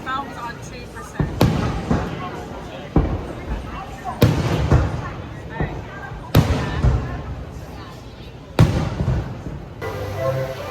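A fireworks show at Kings Island amusement park, with loud booming bursts going off every couple of seconds, each followed by crackling and rumble, while people talk nearby.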